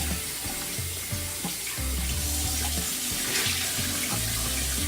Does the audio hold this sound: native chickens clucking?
no